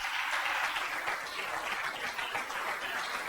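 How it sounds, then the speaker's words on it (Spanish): A church congregation at a Spanish-language service claps in strong, steady, continuous applause that fills the room for the whole stretch, with no talk over it. "Dale un fuerte aplauso a Jesús."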